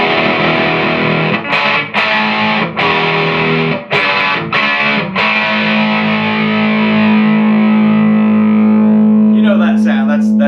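An electric guitar played through a Laney Lionheart Foundry Super 60-112 amplifier with no pedals gives heavily distorted, classic-rock chords. Several choppy strummed stabs lead into one long sustained chord that rings out loud and close.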